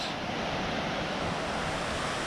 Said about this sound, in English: This is the Row River, as it's pronounced here.